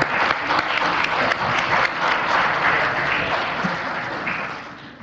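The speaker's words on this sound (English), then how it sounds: "I think we should give him a round of applause," Steady audience applause fills a council meeting chamber, many hands clapping together at full strength before tapering slightly near the end.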